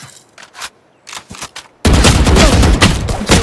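Phantom assault rifle fire in Valorant starts with a few sparse, muffled shots. It then erupts into loud, sustained rapid bursts close to the listener, with no voices over them.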